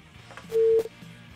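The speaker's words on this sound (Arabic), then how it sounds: "قطع التليفون" Telephone busy tone after a call cuts off during a cooking show: a steady electronic beep lasting about a quarter second, loud and clear above quiet kitchen room noise.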